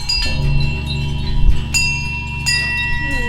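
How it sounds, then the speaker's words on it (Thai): Temple bells at Wat Phra Bat Pu Pha Daeng in Lampang ring in the wind, with several clear metallic strikes and long, overlapping tones lingering close by. "ฟังเสียงกระดิ่งที่โดนลมพัด"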